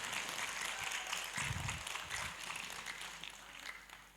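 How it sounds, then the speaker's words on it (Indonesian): Quiet, distant applause for the governor of a Kalimantan student family association in Egypt at an anniversary gathering, a soft continuous patter of clapping with a low thump partway through. "tepuk tangan buat Gubernur keluarga mahasiswa Kalimantan"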